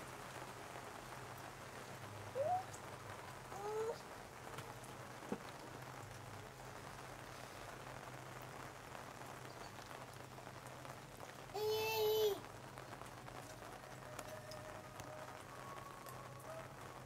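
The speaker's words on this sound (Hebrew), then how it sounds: "מה זה, גשם?" The first rain of the season patters softly and steadily onto surfaces, a faint, even hiss with occasional brief louder bursts of nearby sound.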